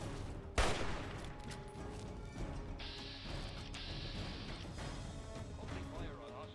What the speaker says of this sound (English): Opening fire on hostiles.